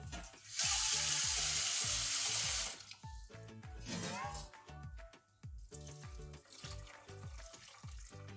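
Water gushes loudly from a tap over drained boiled egg noodles for a few seconds, then stops and leaves quieter clattering handling sounds.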